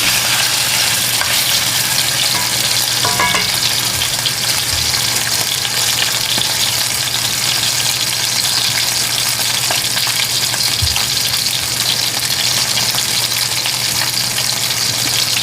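Pork tenderloin searing in hot oil in a pan, with garlic nearby: a loud, steady, close sizzle that runs unbroken throughout, with no talking.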